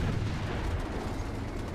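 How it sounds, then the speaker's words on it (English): A Panther tank in War Thunder is blown apart, a dense, heavy low rumble of explosion filling the whole moment with a sustained roaring blast and no voices. "I get around the corner just in time to see him detonate the Panther"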